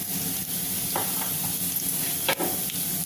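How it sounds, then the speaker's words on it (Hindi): Cumin seeds (half a spoon) crackle in hot oil while spices are fried for a spicy tinda curry, a steady dense sizzle with a few sharper stirring scrapes, close and fairly loud, no talk. "अब ये गरम हो जाएगा तब हम इसमें मसाले भूनेंगे।"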